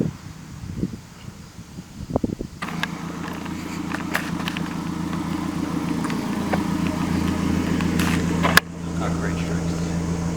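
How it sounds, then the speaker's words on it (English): A car pulls up close by with its engine running steadily and low after an abrupt start, over wind and rustling outdoors, with a brief sharp knock near the end. People talk over it. "I do believe this is Dane pulling up right now"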